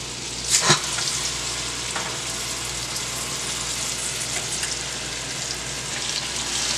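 Pork chops sizzle and fry steadily in a hot pan on a high stove, a dense continuous hiss with a brief louder crackle near the start.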